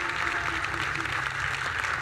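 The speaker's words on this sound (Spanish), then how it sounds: "Un aplauso a toda la gente que organiza estos eventos." Audience at a conference applauds the event organizers with steady, dense clapping that sits moderately close, accompanied by a low background hum.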